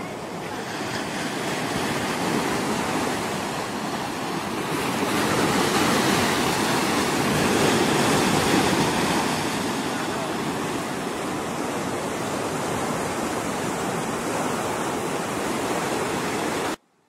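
Ocean waves break on a wide, nearly empty sandy beach at Digha, making a loud continuous roar of surf that swells and eases, mixed with wind buffeting the microphone.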